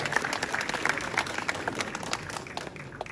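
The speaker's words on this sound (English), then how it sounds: "please thank you for a round of applause" Audience applause fills the room, a steady patter of many hands clapping at moderate loudness, slightly distant, with a little crowd noise mixed in.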